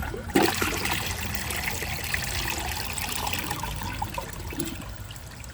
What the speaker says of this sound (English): I'm going to empty the rest of the water from the tank.